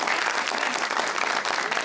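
A studio audience at an Eid special TV show breaks into dense, continuous applause, a close, steady wash of many hands clapping with no speech over it.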